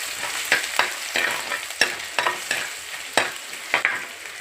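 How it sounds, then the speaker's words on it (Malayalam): Ginger and garlic sautéing in a pan, with a continuous hiss broken by repeated sharp scrapes of a spatula stirring at an irregular pace, close up with no voices. "ഇഞ്ചി വെളുത്തുള്ളിയും കൂടെ ഇട്ട് ഒന്ന് വഴറ്റാം."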